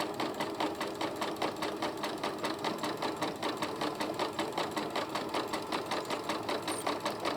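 A sewing machine fitted with a beading foot stitches beads onto fabric, giving a steady, rapid mechanical chatter that runs evenly throughout.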